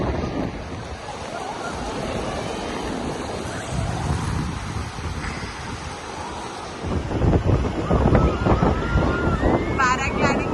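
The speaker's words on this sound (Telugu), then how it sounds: "This is how Rishikonda beach looks like." Surf rolling onto Rishikonda beach in Vizag, a steady wash of breaking waves with wind buffeting the microphone, swelling louder in the last few seconds as a nearer wave crashes in.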